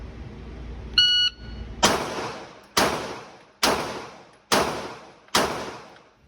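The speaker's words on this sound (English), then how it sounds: "It's 5 shots at 5 yards." Five loud, evenly spaced gunshots at a shooting range during active shooter training, each a sharp crack with a decaying echo, preceded by a brief electronic start beep.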